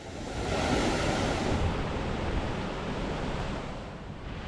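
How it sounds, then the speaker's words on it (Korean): Waves crash against rugged rock formations along a coastal trekking trail, making a loud, continuous wash of surf that swells and eases slightly, with wind across the microphone. "기암괴석에 부딪혀 산란하는 파도의 모습을 아주 가까이서 구경할 수 있습니다"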